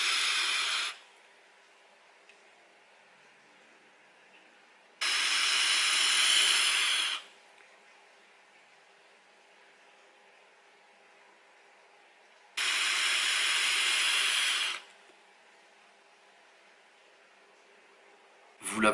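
A Joyetech ProCore Aries clearomizer fired at 40 watts on a direct-output mod with a high-VG, nicotine-free liquid gives three separate bursts of soft hissing vapour, each lasting about two seconds, with near silence between them.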